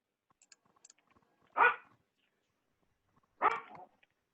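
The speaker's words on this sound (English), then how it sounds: "That's my dog barking in the back." A dog barks in the background during a remote city council meeting, two separate faint barks a couple of seconds apart amid near silence and small clicks.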